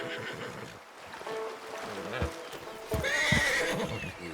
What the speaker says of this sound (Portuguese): um dos cavalos está muito nervoso